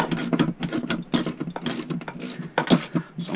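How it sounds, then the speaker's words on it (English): A 10mm ratchet and spanner work on a Land Rover Defender 110, making rapid close clicking in quick uneven bursts throughout. "I'm using a 10mm spanner and a 10mm socket"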